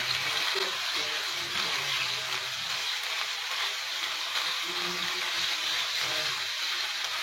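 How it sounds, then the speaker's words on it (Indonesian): Ground Indonesian spice paste for yellow-spiced milkfish stew hitting hot oil in a pan, giving a steady, even sizzle and hiss that runs unbroken throughout, with faint voice murmurs beneath. "Bumbu yang tadi udah diulek, sekarang ditumis."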